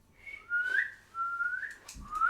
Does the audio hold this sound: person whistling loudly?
yes